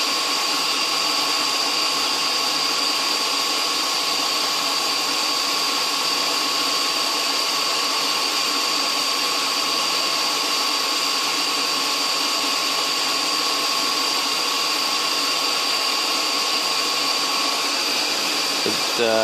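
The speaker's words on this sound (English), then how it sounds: "VFD driving the mill motor." A milling machine motor driven by a variable frequency drive runs with a steady, loud electric whine and high tonal hum, unchanging throughout.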